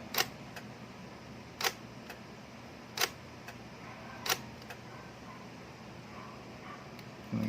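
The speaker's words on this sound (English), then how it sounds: "if you listen close when I press the shutter release on the front, you can hear it taken frame by frame" Shutter of a Fujica ZC1000 film camera firing frame by frame: a series of sharp, isolated mechanical clicks at irregular intervals, close and fairly quiet over a low background hum.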